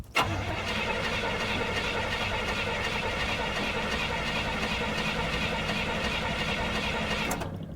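A Mustang engine with a Holley carburetor cold-starts with a sharp crank and catch, then holds a loud, steady idle for several seconds before a brief clatter at the end.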